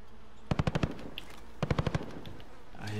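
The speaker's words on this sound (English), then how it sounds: "Shooting at the hospital." Two quick bursts of automatic gunfire, about five rapid shots each, ring out in a Call of Duty: Modern Warfare match over a low ambient bed.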